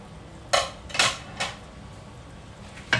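A utensil stirs prawn roast in a pan, making four sharp metallic scrapes and clinks at uneven intervals, close and clear over a quiet kitchen background.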